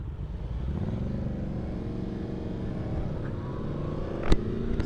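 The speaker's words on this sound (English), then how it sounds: "I hear a Harley" A Harley-Davidson motorcycle engine rumbles nearby in a low, steady drone with a faint rising rev. A single sharp knock sounds just before the end.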